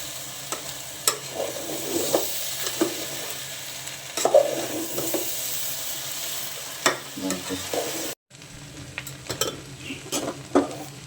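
A spoon scrapes and stirs through rice grains in a pot while making pulao, with repeated scraping strokes over a faint sizzle, irregular and close, no talking.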